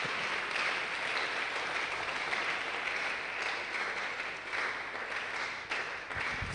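An audience at a green chemistry and sustainability workshop bursts into dense, sustained applause after a presentation, a steady wash of many hands clapping at moderate distance with no speech.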